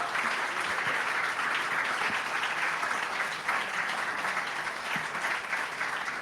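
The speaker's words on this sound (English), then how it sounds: "let's have a big round of applause for our panel." An audience at an interfaith mayoral town hall applauds a panel with dense, steady clapping that holds an even level throughout.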